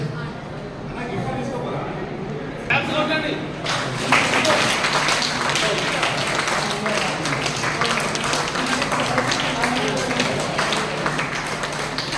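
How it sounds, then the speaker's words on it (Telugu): A crowd applauds in dense, continuous clapping that swells after a few seconds, with voices talking underneath. "సన్మానం చేస్తుంటే చప్పట్లు కొట్టాలి"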